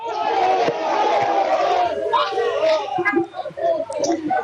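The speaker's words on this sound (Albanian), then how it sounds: "i ngrenë në shenjë proteste, duke brohoritur pra siç mundet të dëgjohet. Duam ujë ose dorëheqje." A street crowd of protesters in Vlorë shouts a rhythmic chant demanding water or resignation, loud and close, with many voices blending into a sustained roar.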